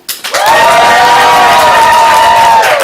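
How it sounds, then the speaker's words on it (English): Audience at an improv comedy sports show erupts in cheers for the blue team, loud sustained whoops and shouts mixed with some clapping, starting after a brief quiet and staying strong to the end. "On the count of 3, cheer for blue."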